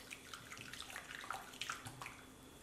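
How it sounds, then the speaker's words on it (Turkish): Warm water poured over yeast in a bowl and stirred by hand while making soft soda-leavened pastry dough, giving soft splashing and trickling close by with small wet swishes, and no speech. "O sıcaklıkta suyumu ekliyorum. Ve şöyle parmağımla karıştırıyorum."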